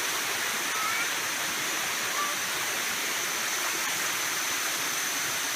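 Water pouring down Bua Tong Sticky Waterfalls near Chiang Mai, Thailand, a steady, unbroken broadband rush that stays constant and close throughout.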